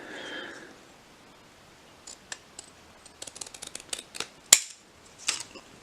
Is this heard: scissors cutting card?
yes